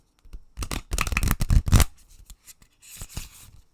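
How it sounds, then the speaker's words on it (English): A deck of playing cards being shuffled up close, a burst of dense riffling crackle followed by a short, softer second riffle, with no talking over it. "one more shuffle before I pick a card for you"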